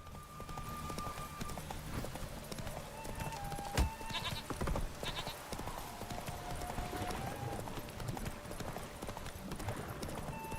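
Roach the horse gallops in a Witcher 3 race on Skellige, with steady hoofbeats running throughout beneath dense in-game music and ambience, plus a single sharp knock partway through.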